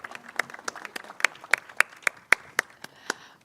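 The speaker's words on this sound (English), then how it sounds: "let's have a big round of applause for the work what this whole team has" Small group clapping for a team, a thin, sparse round of distinct claps at an irregular rhythm, close and clear against a quiet room, tapering off toward the end.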